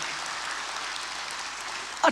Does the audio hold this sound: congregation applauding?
yes